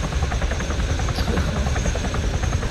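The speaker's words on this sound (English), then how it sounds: "There's 14 people on this helicopter." A helicopter flies in the military video game ArmA 3, its rotor giving a loud, steady, close buzzing drone that runs unbroken through the whole moment with no voices.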